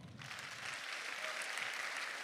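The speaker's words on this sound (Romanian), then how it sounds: "haideți să-i aplaudăm" An audience claps at a church water baptism celebration, a brief burst of dense, even applause that carries on steadily.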